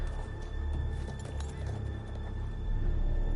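A horse in the video game Telltale's Game of Thrones gives off clopping hooves and a brief whinny amid gritty outdoor game ambience, moderately loud and continuous with no speech.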